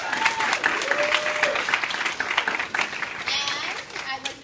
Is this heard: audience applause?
yes